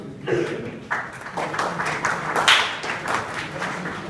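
Students applaud at a school event in Bhaduli, Azamgarh, a steady wash of clapping from many hands at moderate loudness that continues through the clip, with a few stronger bursts and no clear speech over it.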